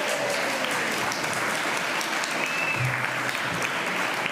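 Audience applause at a short film festival premiere screening, a dense, steady wash of clapping from a crowd, close and even throughout with no pause.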